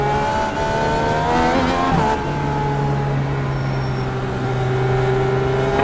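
IndyCar engines roar at Iowa in the iRacing sim, a steady loud drone of several cars with rising and falling pitch as they accelerate, continuous throughout with no talk.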